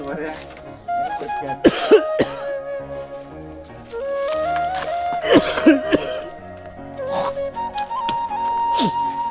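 Person coughing outdoors in an areca nut orchard in the Konkan hills, several harsh bursts and throat-clearing sounds scattered among ongoing speech and background music.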